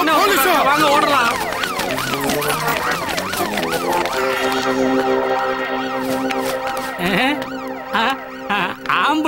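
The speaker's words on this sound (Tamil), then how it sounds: "அது போலீஸ் இல்ல ஆம்புலன்ஸ்" An ambulance siren wails loudly in repeating rising and falling sweeps, continuous and close, with a steadier tone joining partway through and voices chattering underneath.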